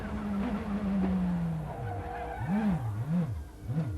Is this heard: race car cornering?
yes